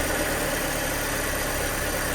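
A B7 Audi A4 fitted with a new aftermarket intake idles with a steady, dense engine drone and broad intake hiss, close and constant, with no voices.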